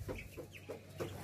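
Chickens clucking close by in a short burst of soft, rhythmic clucks, about four in quick succession.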